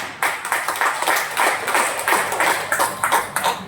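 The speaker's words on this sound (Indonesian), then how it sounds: "Tepuk tangan dulu lagi." Clapping from an audience at a business presentation: a handful of sharp, uneven claps repeating in a loose rhythm, fairly close.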